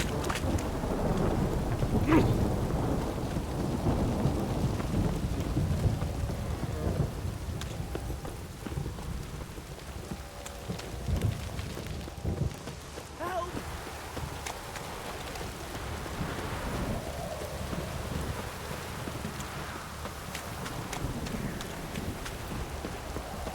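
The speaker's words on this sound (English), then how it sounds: "This downpour's a bastard" Steady heavy rain pours throughout in The Witcher 3: Wild Hunt, with low rolling thunder rumbling underneath and swelling at moments, loud and enveloping.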